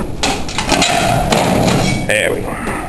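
A wedged panel in a workshop is worked loose with dull thumps and knocks, close and loud, with someone talking over the effort.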